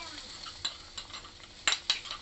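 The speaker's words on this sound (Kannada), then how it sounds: "ಒಗ್ಗರಣೆಯನ್ನು ಇದಕ್ಕೆ ಹಾಕ್ತೇನೆ." Hot onion tempering (oggarane) is poured into silver fish curry, bringing brief sharp sizzles and splashes along with a few close metal clinks of a ladle against the pot.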